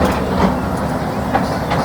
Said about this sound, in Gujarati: મિત્રો નાળામાં ટ્રેન જાય છે.